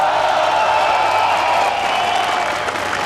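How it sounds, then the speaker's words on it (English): A Polish crowd roars at a StarCraft II esports tournament at IEM Katowice, a dense, sustained wall of cheering and noise from a large hall, loud and steady throughout. "A great roar from the Polish crowd once again supporting their favorite, their Polish player."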